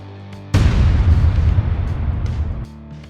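A 6.2 litre LS3 V8 swapped into a Toyota Landcruiser FJ45 catches and roars to life, a sudden loud, dense engine rumble that holds steady for about two seconds before dropping back to a lower idle.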